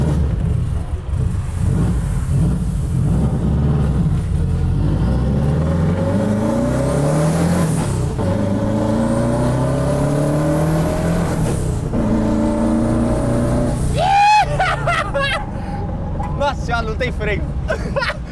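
A dune buggy fitted with a Subaru turbo engine revs repeatedly, its pitch sweeping up and down as it accelerates and shifts while driving, loud and close, with people talking over the engine throughout.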